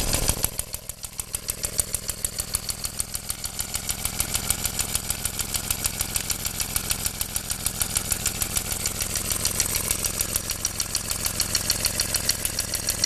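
A Briggs & Stratton FC engine, fitted with original FC carburetors, runs steadily at a close distance, giving a loud, even, rapid firing rhythm that holds without break from start to finish, with no talk over it.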